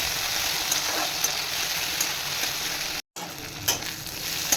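Whole garam masala, fennel seeds and bay leaf frying in hot oil for a chicken steamer curry, a steady close sizzle with faint stirring clicks and a brief dropout partway through.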